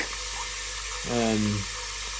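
Hot water sprays onto hardened gunk inside a Brewtools F40 unitank beer fermenter, a constant hissing wash, loud and close, with a brief tonal pump-like hum and a voice partly heard over it.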